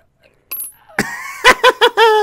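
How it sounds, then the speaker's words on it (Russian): A cartoonish coin-drop jingle from the video game Plug & Play: a bright chime, then a run of three quick ringing clinks and a sustained tonal ring, loud and clear with no talk over it. "Монетка."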